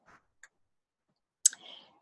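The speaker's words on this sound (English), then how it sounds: "So you just click on that" A single computer mouse click while editing a Facebook profile page: one faint tick early on, then a sharp close click followed by a brief soft rustle, in otherwise near silence.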